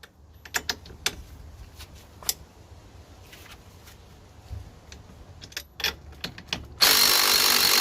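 Clicks and sharp metallic taps from a 13/16 socket on a lower strut mounting bolt of a Buick Allure/Lucerne during CV axle work, with scattered short bursts ending in a loud broadband rush of noise.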